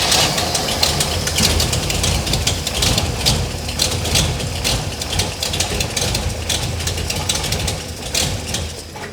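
A 1967 Pontiac GTO engine fitted with Haltech EFI idles loudly and continuously nearby, its rough, dense rumble steady throughout and without talk.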